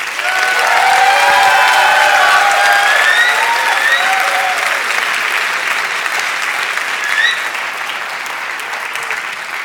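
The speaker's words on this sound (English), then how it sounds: "A warm applause for all the graduates from the HCID track." Graduates at a 2018 graduation ceremony receive loud, steady applause from the audience, with a few whistles or cheers rising briefly over the clapping, which gradually softens toward the end.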